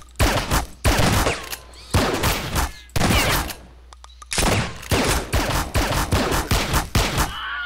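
Shotgun blasts in a police shooter video game, loud close bursts fired in rapid succession with a brief pause midway, a dense volley of gunfire.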